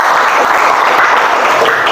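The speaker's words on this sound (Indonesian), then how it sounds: "Aplaus untuk Tiara." Classroom applause for a student named Tiara during a chemistry lesson, a steady, loud burst of many hands clapping together, dense and continuous throughout with no voices standing out.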